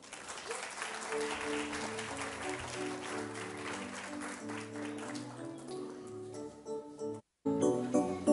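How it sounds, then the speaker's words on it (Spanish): An audience applauds steadily for a children's string orchestra at a music foundation's achievement day, with sustained string tones sounding beneath the clapping; it cuts out briefly near the end, then resumes. "Fuerte el aplauso."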